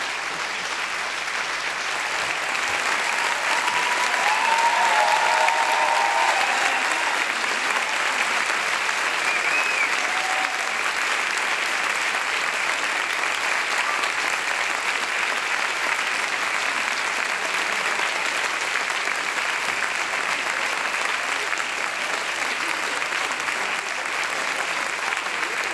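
A dense, sustained ovation from a large audience at a regional final of a thesis-in-180-seconds contest, heard as a continuous wash of many hands clapping for over twenty seconds at steady loudness.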